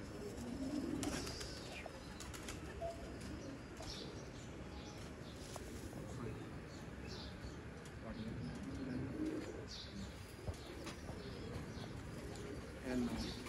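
Royal teddy pigeons coo softly in repeated low throaty phrases, a few separate bouts, with faint chirps and some background noise around them.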